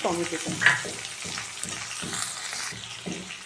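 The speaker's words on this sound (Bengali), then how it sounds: "টমেটোটা দিয়ে আমি একটু ভেজে নিয়েছি" Tomato frying in a pan with pieces of taro for a rohu fish curry gives a steady, close sizzle with a brief crackling burst early on and soft, rhythmic stirring knocks underneath.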